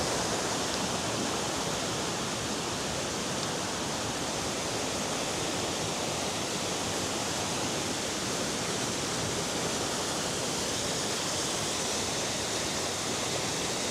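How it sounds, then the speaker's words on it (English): A waterfall in Ubud, Bali pours down with a steady, dense roar of flowing water, continuous and loud throughout with no voices. "Flowing water."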